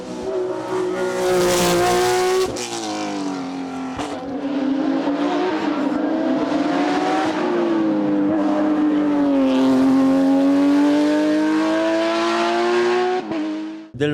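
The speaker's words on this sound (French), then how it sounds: "Revanchard et ayant retrouvé toutes ses sensations au volant de sa Porsche 997 GT3 R, Nicolas Verver" A Porsche 997 GT3 R race car at a hill climb at Col Saint-Pierre, its engine loud and close, revving and shifting through gears with rising and falling pitch, a short tire squeal along the way, and no talk.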